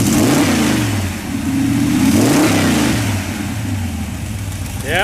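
A 1959 Chevrolet Corvette engine runs loud and close, rising and falling through several revs with a rough mid-range rumble, then settling briefly before climbing again.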